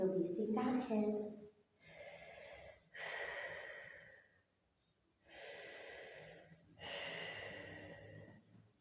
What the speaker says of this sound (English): Let's just be here for about 5 deep breaths